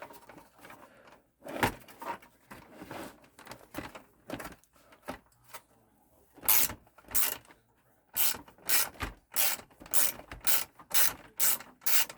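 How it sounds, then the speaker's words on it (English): Screws being backed out of an electronic device with a screwdriver, giving close, scratchy ratcheting turns in short bursts separated by pauses, growing louder and more rhythmic toward the end. "Let's get all these screws out of here and see what this is."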